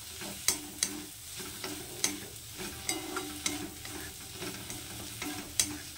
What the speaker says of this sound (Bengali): এবার এটাকে একটু মিশিয়ে নেব।